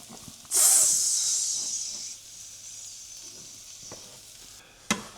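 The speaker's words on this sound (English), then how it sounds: "Hear the sizzle?" A loud hiss of six eggs hitting a hot pan, then a steady sizzle that slowly fades, with a sharp clink near the end.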